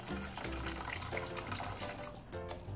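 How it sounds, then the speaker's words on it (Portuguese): Water is poured into a pan of pasta sauce, a quiet close trickle and splash with gurgling liquid lasting a few seconds. "Vocês podem colocar água no molho, não tem problema."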